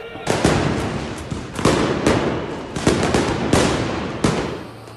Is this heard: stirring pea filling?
no